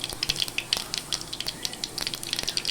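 Mustard seeds spluttering in hot oil alongside urad dal for a brinjal and drumstick thokku, a steady fizz with dense rapid pops and crackles, fairly close and moderately loud, no voices.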